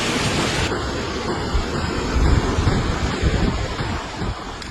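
Strong tropical storm wind buffets the microphone with a constant roar as coastal waves surge and crash nearby in the Philippines, with faint high tones in the background.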